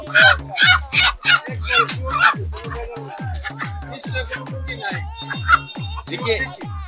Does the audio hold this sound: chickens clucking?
yes